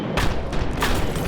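An A-10 aircraft fires its gun in Door Kickers 2, heard as loud, rough bursts of rapid gunfire and booming explosions, close and dense, with no gaps of quiet.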